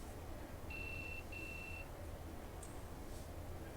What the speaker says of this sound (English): Think that's your phone going off.